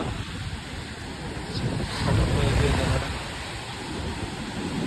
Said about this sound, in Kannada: ಫುಲ್ ಜೋರಾಗಿ ಅಲೆಗಳು ಬರ್ತಾವೆ.